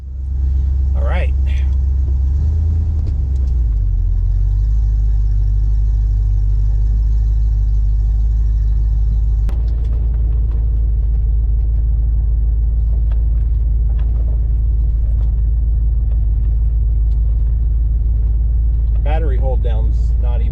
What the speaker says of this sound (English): I figured I would take you for a little ride in this car